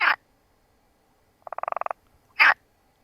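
Frogs call close by: two short harsh croaks with a quick pulsed trill between them, against a quiet background.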